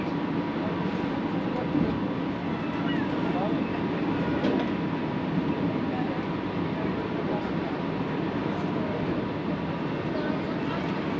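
The Howrah-Patna Vande Bharat Express runs at speed, producing a steady rumbling roar with faint wheel clatter, heard from inside the train.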